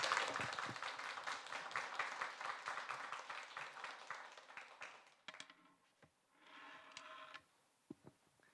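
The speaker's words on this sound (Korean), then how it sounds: "나오실 때 박수로 저희의 마음 전해드리도록 하겠습니다" Church congregation applauding to welcome the pastor at a Sunday service, dense clapping from a crowd that fades after about five seconds into scattered claps and quiet room sounds.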